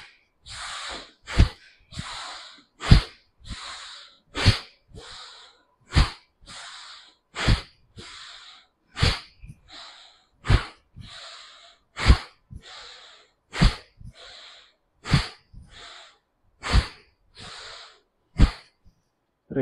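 Pranayama breathing exercise with forceful nasal breaths, a steady series of about two dozen sharp, close exhalations at a regular rhythm, each followed by a softer breath in, with no talk.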